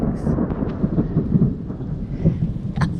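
Thunder from a lightning storm rumbles low and continuous throughout, with steady rain hissing underneath and a few louder cracks and swells, close and loud.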